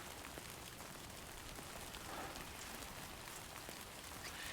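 Steady video game rain patters down in a constant wash of drops, soft and even throughout, with no speech.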